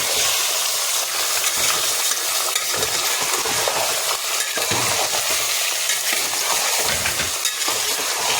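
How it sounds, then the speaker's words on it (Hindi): Chicken pieces sizzle steadily in a hot pan with fried onions while being stirred for a chicken korma curry, a continuous loud frying hiss with scraping stir strokes throughout. "अब ये देखिए चिकन डाले ले, इसको अच्छा भून लेंगे चिकन को।"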